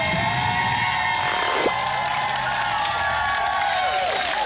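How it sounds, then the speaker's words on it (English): A children's science show studio audience cheers and applauds both the yellow and red teams, a steady wash of crowd noise and shouts with sweeping tonal music or effects running through it. "Round of applause for both yellows and reds."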